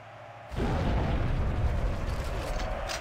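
In a modded Halo match, a sudden explosion bursts in after a short quiet moment, a heavy booming rumble that stays loud and sustained before slowly tailing off.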